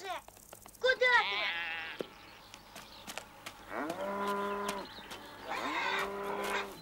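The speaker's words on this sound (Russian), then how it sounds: "Не видишь, сейчас коровы в огород полезут." Cartoon cows in an animated musical fairy-tale film moo loudly, with two long drawn-out lowing calls in the second half, and an earlier higher bleating cry comes before them. Busy background music plays throughout, with a voice briefly heard.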